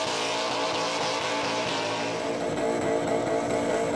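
A burnout car's backup engine, picked up from a wrecker with 250,000 km on it, roars continuously at the Summernats burnout competition, loud and harsh at sustained high revs against a noisy crowd and smoke-filled arena atmosphere.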